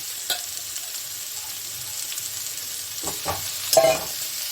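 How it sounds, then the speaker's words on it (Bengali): Boiled young jackfruit frying with onions in a pan makes a steady low sizzle with soft stirring scrapes, and a few louder clatters of the spatula toward the end. "এখন এই পেঁয়াজের সঙ্গে এই এঁচড়টাকে আমি ভেজে নেব।"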